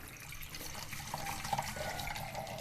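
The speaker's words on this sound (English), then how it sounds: "Fill up with water." Water pours into a container of flour and leftover wheat for a sourdough starter, a steady running stream like a tap filling the vessel, with a faint trickling rise in pitch as it fills, and no talking.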